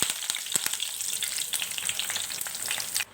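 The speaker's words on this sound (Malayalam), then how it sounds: "എണ്ണ ഒന്ന് ചൂടായി വരുമ്പോൾ ഇതിലേക്ക് നമുക്ക് കുറച്ച് കറിവേപ്പില ചേർത്ത് കൊടുക്കാം" Curry leaves sizzle and spit in hot refined oil, a dense, bright crackle with sharp pops close by, which stops abruptly at the end.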